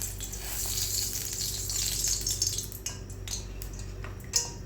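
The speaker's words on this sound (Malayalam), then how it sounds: "ചൂടായ എണ്ണ ഒഴിക്കാം." Hot oil poured into a pot on the stove for frying potato bondas, a continuous hissing sizzle with light metallic clinks of a pan and utensils near the end, no talk.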